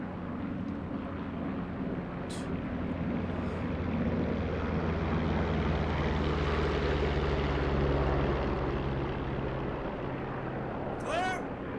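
A P-47 fighter's radial piston engine starting up in the DCS flight simulator, with a steady propeller drone that builds and holds loudly throughout, and a voice speaking briefly over it.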